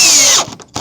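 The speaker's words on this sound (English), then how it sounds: "I'm going to put this screw gun in here and put the screw down in the" A screw gun drives a screw into old wooden decking during a deck repair, a loud high whine for about half a second, then a brief stop and a short restart, close up with no talk.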